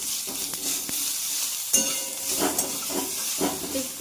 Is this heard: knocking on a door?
no